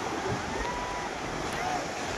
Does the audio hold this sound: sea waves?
yes